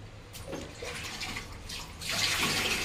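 A tap runs during hand washing and the rinsing of a handkerchief, a soft, steady close-up stream of water that grows louder and fuller near the end.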